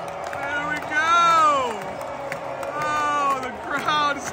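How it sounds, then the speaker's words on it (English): A baseball stadium crowd roars during an Orioles versus Athletics game, loud sustained cheering that swells and dips, with voices talking and yelling close by over it. "Oh, the crowd is definitely into this one now."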